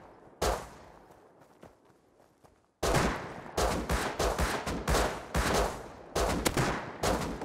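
Gunfire in the survival game Rust, Thompson submachine guns and bolt-action rifles: a quiet start with one sharp shot, then dense loud bursts and rapid repeated cracks through the second half.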